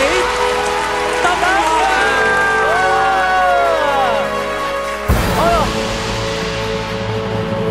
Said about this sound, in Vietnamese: Một tràng vỗ tay thật lớn thưa quý vị.